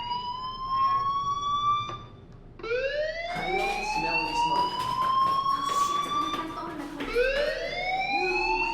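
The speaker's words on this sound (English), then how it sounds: "Hey, do you hear that fire alarm?" A fire alarm in the video game Life is Strange wails in rising and falling siren-like sweeps, loud and continuous, with a fresh rising tone restarting several times across the clip.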